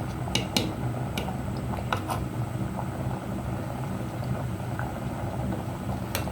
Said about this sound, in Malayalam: സൈഡിൽ നിന്ന് നല്ല തിള വരുമ്പോൾ ഓഫ് ചെയ്യുക.